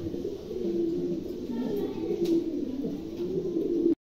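Pigeons kept for sale, with an exhibition pair among them, give low throaty coos close by, a steady murmuring hum that runs throughout with no talk.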